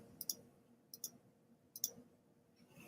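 A computer mouse clicks close and quiet, three pairs of crisp, sharp clicks spaced about a second apart against a near-silent background.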